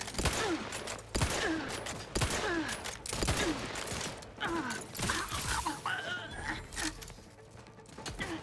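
Gunfire in the video game The Outer Worlds 2 on PS5: sharp shots roughly once a second, repeated across the stretch over a busy background of game sound.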